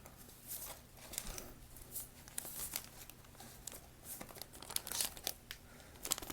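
Medical tape and gauze from a mountaineering first-aid kit are handled up close, giving quiet, irregular crinkling and rustling with small crackly bursts throughout.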